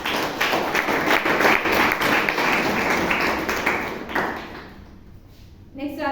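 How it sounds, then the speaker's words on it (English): A Toastmasters club audience in Bangalore claps through a big round of applause, dense and lively for about four seconds, then thins and fades out to near quiet before a brief new sound near the end. "So that we should give a big round of applause to."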